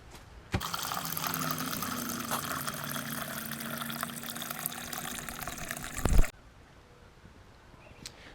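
Water runs from an outdoor faucet beside a house, a steady close hiss of filling lasting about six seconds, opening with a sharp start and ending with a clunk as the tap shuts off into quiet.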